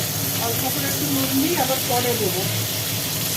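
Hilsa fish head and Malabar spinach stalks fry in hot oil, giving a steady, close sizzling hiss that runs throughout while a person talks over it.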